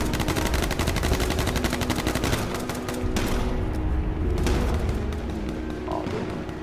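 Gunfire in the H1Z1 video game: rapid automatic bursts crackle densely at first, then thin into scattered shots with brief pauses, loud and continuous.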